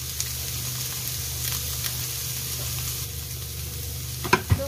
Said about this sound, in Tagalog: Gigisahin ko lang ng konti para hindi ma-overcook yung ano, yung gulay.